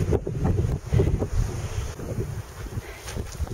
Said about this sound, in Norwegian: Nå blåser det litt.